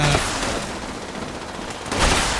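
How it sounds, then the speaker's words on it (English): A quad explosive harpoon gun in Fallout 76 fires with loud, booming blasts, one burst at the start and another near the end over a rumbling, noisy background. "This is just a quad explosive harpoon gun."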